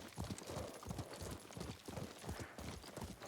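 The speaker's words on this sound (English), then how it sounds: "What a good horse." Horse hooves clip-clop at a steady trotting rhythm in the video game Ghost of Tsushima, close and continuous but fairly quiet.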